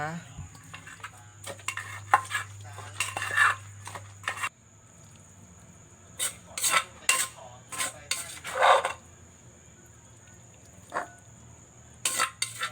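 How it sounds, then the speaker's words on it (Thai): Eggplant pounded with seasonings in a mortar for a Thai eggplant and mackerel dish: repeated knocking thuds and scraping clatter in uneven bursts, close and fairly loud, with quiet gaps between. "ตำให้มะเขือเข้ากันกับเครื่องปรุงแล้วก็ ตามด้วยผักลงไปนะคะ"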